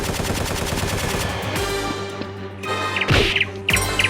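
Rapid bursts of staged gunfire ring out in a Nerf gun action skit, loud repeated shots over a busy music-like background, with sharper cracks clustered near the end.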